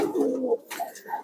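A pigeon coos up close, a low throaty warble in two short phrases, loud and clear with no talking.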